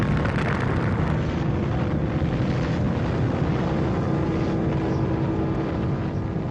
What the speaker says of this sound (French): Avec cette gigantesque explosion